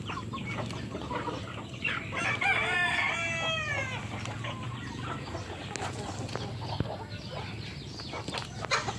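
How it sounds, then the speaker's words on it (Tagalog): Chickens cluck and a rooster crows repeatedly on a small farm at feeding time, the crowing calls standing out in the middle of the clip over steady, moderately close flock noise. "nagpapakain ng manok"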